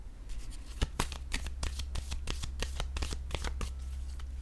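Playing cards are shuffled, handled and laid down on a table in a quick run of crisp, close slaps and riffles, with no talking.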